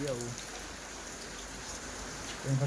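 Steady monsoon rain in rural Odisha hisses as a constant wash of noise, with brief bits of voice at the start and end.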